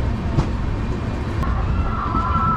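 A Chozhan SF Express train rolls out of Melmaruvathur station, giving a steady, close rumble of wheels and carriages with a faint high tone rising partway through.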